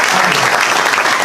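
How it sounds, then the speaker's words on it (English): An audience applauds performers at a retirement event, with dense, loud clapping filling the whole short stretch. "let's give a round of applause again to all the performers"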